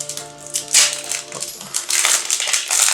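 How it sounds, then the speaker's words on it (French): A Duel Masters trading card booster pack being torn open up close, with sharp crinkling foil bursts and rustling over a faint tonal background, no talking. "Ensuite on va ouvrir un deuxième booster."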